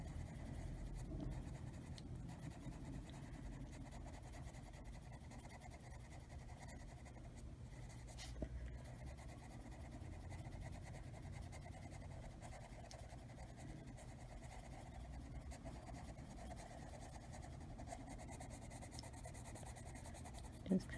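Steady scratching of colored pencils blending color across an adult coloring page of houses, soft and continuous with faint talk underneath.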